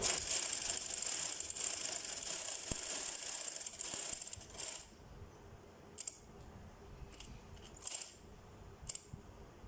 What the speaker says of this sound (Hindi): यहाँ मैं सिलाई लगाऊँगी आधे इंच के मार्जिन से।